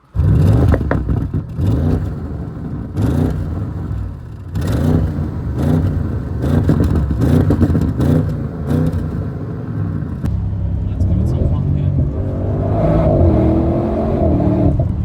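An Audi RS6 GT's 4-liter V8 bi-turbo engine revs repeatedly in sharp bursts with the bonnet open, roaring up and dropping back, then holds a rising, throaty drone; close and loud with no voices.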